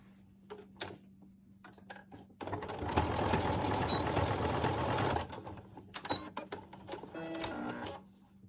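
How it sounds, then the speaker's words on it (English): A domestic sewing machine stitching a fabric face mask runs in a steady, close whirring burst of about three seconds, framed by quieter clicks and handling of the cloth, with no talk. "you bring it up onto your sewing machine, and you sew down"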